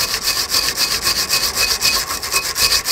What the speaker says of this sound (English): now what we're going to do is just clear with a wire brush the caliper carrier